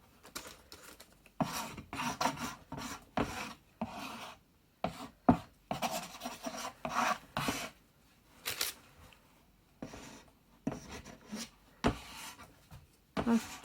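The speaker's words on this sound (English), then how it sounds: "So this is just a metal paint scraper" A metal paint scraper drags and rasps across a surface during mark making, in repeated short bursts and scrapes with brief pauses between strokes, close and fairly quiet with no talking.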